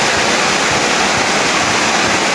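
Floodwater covering half of an outdoor basketball court rushes and roars in a loud, steady wash of noise, with no voices over it.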